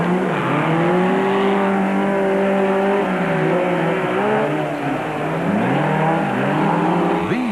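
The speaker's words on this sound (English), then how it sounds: "These so-called stadium off-road races are custom built for this kind of track, and the drivers were reveling in the racing." Toyota and Ford stadium off-road race cars roar around a stadium track, engines loud and continuous with rising and falling revs as the cars chase each other close by.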